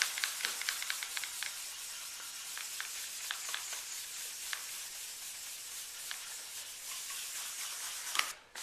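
Fine 800-grit sandpaper rubbing an electric guitar body in quick, repeated strokes, a soft steady scratchy hiss with small rhythmic pulses, close by and fairly quiet.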